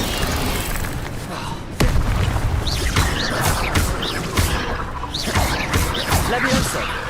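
Incendio, the fire spell, is cast in Hogwarts Legacy as a string of booming, whooshing bursts. A sharp loud hit lands near the middle, followed by repeated flaring swells under a steady roar of game noise, with voices mixed in.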